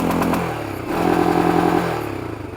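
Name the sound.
motorcycle engine revving into its rev limiter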